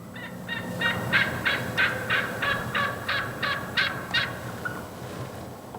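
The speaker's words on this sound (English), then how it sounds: "hearing a hen turkey call like that" A wild hen turkey gives a long run of about a dozen evenly spaced, rhythmic yelps, clear and moderately close over a steady outdoor background, with no voices.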